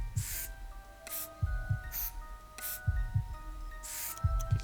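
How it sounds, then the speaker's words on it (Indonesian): A steady heartbeat in the video game Silent Cleaning thumps in paired low beats at a calm, regular pace, with several short hissing spray bursts and a faint tonal hum over it. "detak jantung masih normal"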